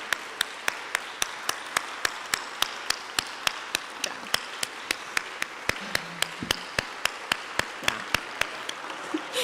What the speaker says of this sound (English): So can we take a moment to give her a round of applause